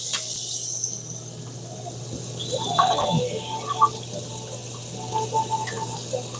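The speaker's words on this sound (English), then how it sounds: "let me dump out this protein skimmer here, give it a quick rinse" Water poured out of an aquarium protein skimmer and rinsed under a tap, a steady wash of running water with scattered splashes and drips over a low pump hum.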